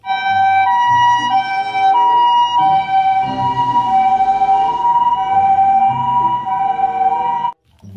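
A toy ambulance wails with a loud, close electronic siren, its two tones alternating steadily for several seconds before cutting off abruptly near the end.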